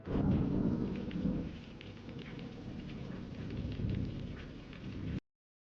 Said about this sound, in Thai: เห็นพายุพัดอย่างแรง